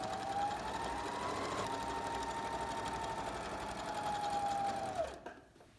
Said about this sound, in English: I'm also gonna go ahead and sew the bottom of my bag together, and that's gonna be about 1/2 inch.